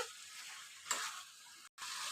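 Chicken and kohlrabi being stirred and sautéed in a pan, a soft continuous sizzle with a brief scrape of the spoon, close and quiet, no voices.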